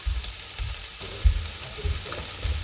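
Chopped onion hits a hot pan and sizzles faintly, with scattered clicks and light knocks from handling the pan and utensils. There is no talking.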